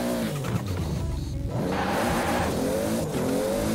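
Toyota Supra in the Forza racing game, engine revving hard through gears with turbo whoosh and tire squeal, loud and continuous with no talk.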